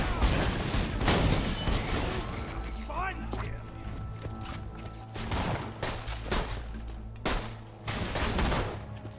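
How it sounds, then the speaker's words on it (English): Rapid bursts of gunfire and booming explosions from weapons in the video game Borderlands 2, loud and dense throughout with several heavy blasts, chaotic combat noise and mechanical clatter layered together. "And using my explosion weapons and stuff because they do high damage."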